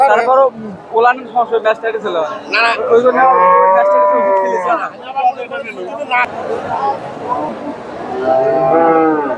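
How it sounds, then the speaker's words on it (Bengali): A Jersey or Friesian dairy cow at a Bogura cattle market gives several loud, drawn-out moos close by, mixed with people talking and market chatter around it. "দর্শক সুন্দর একটা গাভী দাম দর হচ্ছে"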